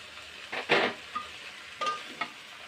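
Vegetables go into a hot buttered paste for a Chinese-style vegetable dish, giving two short bursts of sizzling frying and stirring, close and moderately loud, with quiet gaps between.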